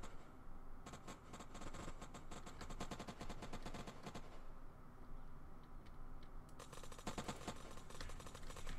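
Rapid bursts of automatic gunfire in the survival game Unturned, with dense repeated shots crackling through most of the stretch, a short lull near the middle, then more volleys, fairly distant and steady in level.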